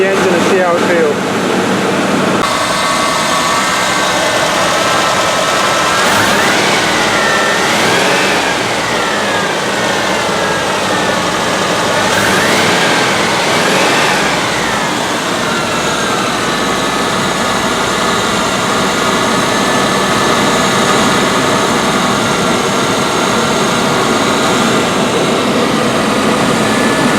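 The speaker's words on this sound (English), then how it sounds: "Give it a bit of time to warm up, and then I'll rev the engine and see how it feels." A 1984 Rolls-Royce Corniche with newly replaced fuel injectors idles loud and close, with a steady hum, then its engine is revved three times, each rise and fall in pitch clearly audible.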